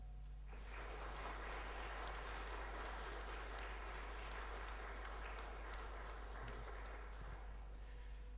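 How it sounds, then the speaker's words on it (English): Faint, distant applause from a crowd at a high school graduation ceremony, a steady clatter of clapping that starts after a brief quiet moment and continues evenly to the end. "can I get a quick round of applause for pulling this together today?"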